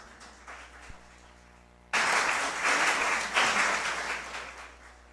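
After a quiet room tone, an audience breaks into sudden, full applause for an honoree at an award ceremony, holding strong for several seconds before easing slightly.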